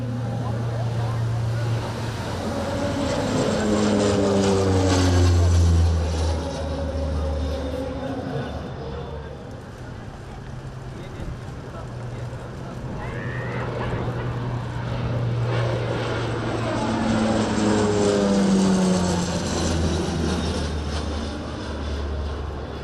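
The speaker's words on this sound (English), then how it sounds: "This was followed by a rare sight, the AN-32." An Antonov An-32 twin-propeller transport plane passes at the BIAS 2019 airshow in Romania, its droning engines swelling, fading and swelling again as it makes two flypasts at a distance.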